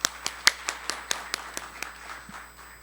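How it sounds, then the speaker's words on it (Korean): Audience applause welcoming a speaker at a committee launch ceremony, a short burst of sharp, rhythmic clapping that starts crisp and distinct, then thins and softens as it fades out. "큰 박수로 맞이해 주시기 바랍니다."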